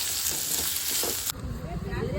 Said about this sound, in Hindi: इसे फ्राई होने में लगभग 5 मिनट लगेंगे